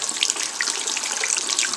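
Hot water running steadily from a tap into a container, a continuous close hiss and splash with no voices.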